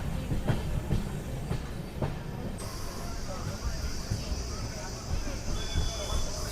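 Sapthagiri Express with new LHB coaches running between Chennai Central and Tirupati: a steady, loud rumble of wheels and carriage noise with faint clickety-clack, and a high whine joining midway, heard from onboard.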